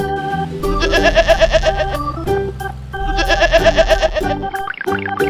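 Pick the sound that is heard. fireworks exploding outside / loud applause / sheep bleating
sheep bleating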